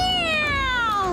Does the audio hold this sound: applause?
no